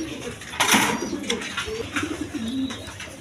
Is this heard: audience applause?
no